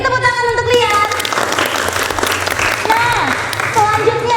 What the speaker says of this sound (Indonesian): Beri tepuk tangan untuk Lian.